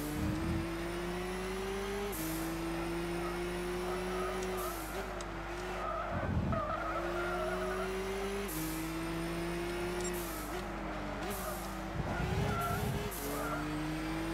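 Race cars lapping a circuit in Gran Turismo 6, a loud close engine whine that rises and drops through the gears, with repeated bursts of tire squeal and skidding and a faint voice underneath.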